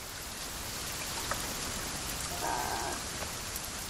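Steady rain falls in a survival video game set in a forest, a soft, even hiss of drops spread across the whole scene with a faint brief tone partway through and no talking.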